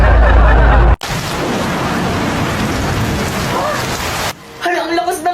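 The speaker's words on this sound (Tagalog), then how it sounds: "ang lakas ng ulan, paniguradong walang pasok niyan bukas" Heavy rain pours as a loud, steady hiss for several seconds after a brief low rumble, then cuts off abruptly into quieter room sound.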